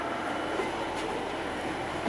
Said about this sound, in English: Oh, freight train.